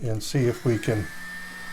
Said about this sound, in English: I'm going to bring out the mini blower and we'll blow the corners